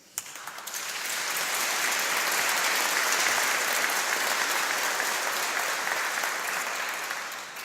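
Sustained audience applause at a university graduation ceremony awarding an honorary doctorate, rising quickly to a full, even roar that holds steady for several seconds before easing slightly at the end.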